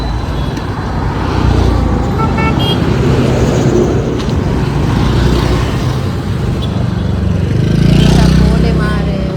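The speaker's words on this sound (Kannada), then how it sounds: "ಗಾಡಿ ಎಲ್ಲ ಬರ್ತಾ ಉಂಟು ಆ ಕಡೆ ಈ ಕಡೆಯಿಂದ" Cars and motorbikes pass close by on a busy road, a loud, continuous roar of engines with swelling pass-bys and short horn toots, and voices are audible among the noise.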